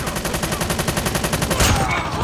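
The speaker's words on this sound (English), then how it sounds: "Hostile sentry gun spotted." A sentry gun in the Call of Duty Mobile video game fires a fast, regular stream of shots, about eight per second, close and loud, ending in a heavier burst.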